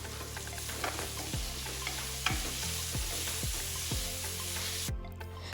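Chopped onions with salt sauté in hot coconut oil, a steady sizzle under repeated scraping strokes of a spoon against the pan, close and continuous without talk.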